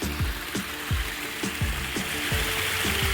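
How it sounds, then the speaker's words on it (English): A garden pond waterfall runs steadily, a dense continuous splashing and trickle of falling water, close and fairly loud, with a faint repeating low thump underneath. "our waterfall's running again"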